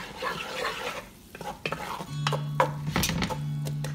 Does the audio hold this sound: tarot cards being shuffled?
no